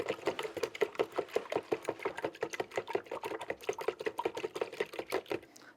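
Eggs whisked briskly in a bowl for a homemade fishing bait mix, a fast, steady run of close clicking taps that continues for several seconds with no talking.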